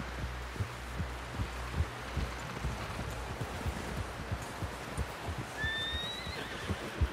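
A horse in the video game Red Dead Redemption 2 gives a brief rising whinny near the end, over a steady run of soft hoof thuds and low ambient rumble.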